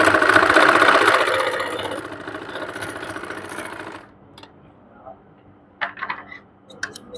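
A home sewing machine runs fast for about four seconds while a kurti side pocket is stitched, a dense whirring burst that stops abruptly, followed by faint clicks and handling noises in near silence.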